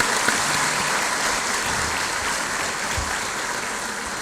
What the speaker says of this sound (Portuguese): Eu peço uma salva de palmas a este grande filho do nosso país.